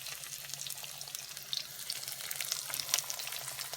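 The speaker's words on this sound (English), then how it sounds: "the pan is quite hot, so I'm just going to go ahead and pop a few of them in" Green onion cakes fry in a hot pan with a steady, close hiss and crackle, broken by small sharp pops.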